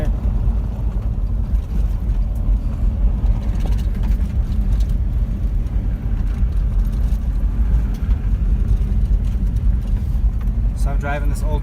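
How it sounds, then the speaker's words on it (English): An old first-generation Toyota Tacoma pickup with about 300,000 miles drives along a Colorado road, its engine and road rumble a steady, loud low drone heard from inside the cab throughout. "So I'm driving this old Toyota,"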